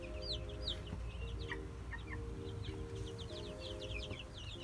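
Chickens on a small farm cluck and chirp continuously at moderate distance, with scattered higher bird calls over a steady low hum and no talk.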